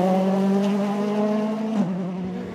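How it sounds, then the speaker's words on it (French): A Ford rally car running on dry-weather tyres over a wet road, its engine holding a loud, steady tone close by before dipping briefly and settling as the car passes, with no voices. "Chaussé en pneumatique pour le sec, le pilote de la Ford tente simplement de rester sur la route."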